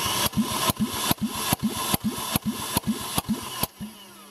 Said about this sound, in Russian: Замер компрессии двигателя.